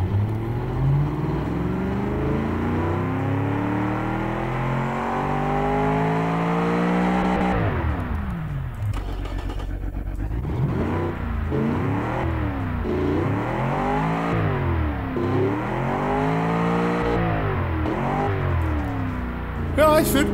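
A car engine revs hard through a throaty tuned exhaust in the game Automation, climbing and dropping in repeated bursts, loud and close, with a racing game's engine character.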